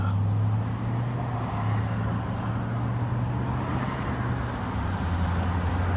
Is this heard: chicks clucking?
no